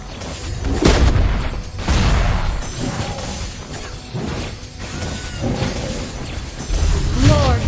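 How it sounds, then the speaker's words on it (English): Turret destruction in the MOBA Mobile Legends, a heavy booming crash with shattering debris and mechanical clatter, followed by further thuds and impacts in busy game action, with a voice announcing over the noise. "Our turret has been destroyed."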